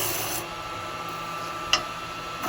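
A woodturning tool cuts into spinning wood on a lathe while turning a ring holder, giving a steady, close rasping scrape as shavings peel off, with one brief knock partway through.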